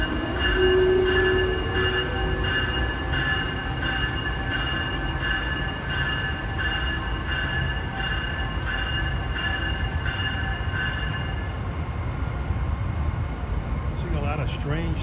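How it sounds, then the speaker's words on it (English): A SEPTA Silverliner V commuter train rumbles steadily past close by at Overbrook, Philadelphia, heading west, with a sustained tonal whine over the rolling noise throughout, fading slightly at the end. "we catch this Silverliner V heading west"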